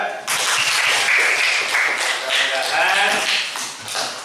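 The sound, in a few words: applause for Mas Reza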